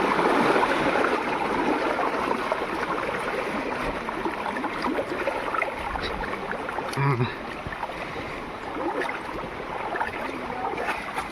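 A river runs with a strong current, giving a continuous rushing, gurgling wash close by, slightly louder at the start and then steady, with faint occasional knocks under it.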